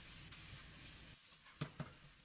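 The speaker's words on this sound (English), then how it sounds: "Then you can start the final stir frying." Quiet, steady sizzling of Sichuan twice-cooked pork with hot pepper stir-frying in a hot wok, broken by a couple of short scraping knocks as it's stirred.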